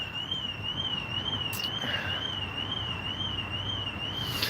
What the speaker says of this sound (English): The alarms are now going.